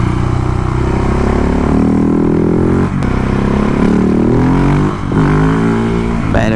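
Motorcycle engine revving hard through a wheelie on a coastal road, a loud, close roar climbing in pitch with brief gear-change dips before surging again.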